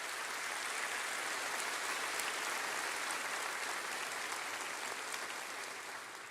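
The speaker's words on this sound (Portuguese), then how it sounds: "Pode aplaudir a Jesus." A church congregation in a Brazilian evangelical service applauds, a dense, even wash of clapping like steady rain that holds throughout and tapers slightly at the end, with no distinct voices.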